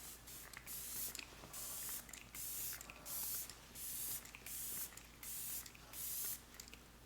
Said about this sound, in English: I'm going to do a good spray of this Soft Focus again